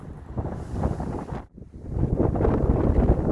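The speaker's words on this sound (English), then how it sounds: "Very windy. It's supposed to get even windier." Strong gusts roar at a mountain pass in Torres del Paine, buffeting the microphone with heavy low rumble that drops off for a brief lull, then surges back loud and sustained.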